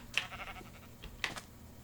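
A pink sheep bleats twice at close range, two short quavering calls separated by about a second over a faint background hum.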